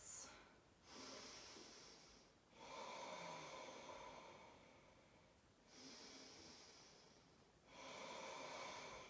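Slow, deep breathing during a yoga flow, long soft inhales and exhales in a steady unhurried cycle, faint and close with gentle airy hiss and short pauses between breaths.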